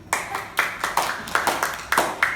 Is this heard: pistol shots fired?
no